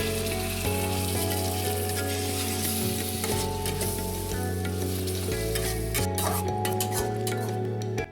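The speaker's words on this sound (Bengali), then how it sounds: "গ্যাসের ফ্লেমটি কম রেখে ভালো করে নাড়িয়ে চাড়িয়ে নেবেন।" A spice masala with ground coriander, cumin and tomato paste sizzles steadily in a pan over a low gas flame while a utensil stirs it, scraping and clinking against the metal close up, with no voices.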